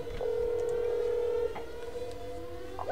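A telephone keypad tone from the video game That's Not My Neighbor holds steadily for over a second, then fades, with a couple of brief chirps and a quieter tone near the end; no speech.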